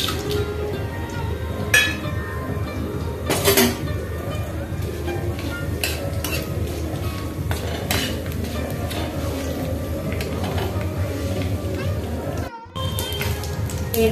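Bay leaves, dried chillies and nigella seeds are tempered in hot oil, crackling and sizzling close by with scattered sharp pops, while someone talks over the frying.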